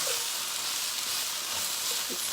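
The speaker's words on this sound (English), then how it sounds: "Let's give those fajitas a stir, get those mushrooms cooking." Fajitas and mushrooms sizzle in a pan, a steady hiss of frying oil with a brief scrape of stirring near the end, no voices.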